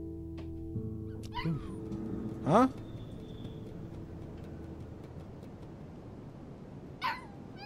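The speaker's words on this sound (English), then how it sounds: "Doggy wants to go out." In the video game Life Is Strange 2, a dog whines to be let out: a few short rising whimpers, one louder in the middle and another near the end, over quiet game ambience.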